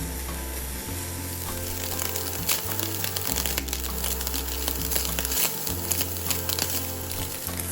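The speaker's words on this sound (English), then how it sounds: "start with a cold pan, put the meat in, and it's going to warm up and bring forth" Meat fries steadily in a pan that began cold, its fat rendering out with a dense, continuous sizzle and crackle, close and loud, over a low steady hum.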